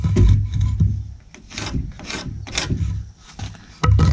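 An oscillating multi-tool cuts through a 1.5 inch wooden block for a deck built on concrete, with rough buzzing, rasping bursts that start and stop, loud and close.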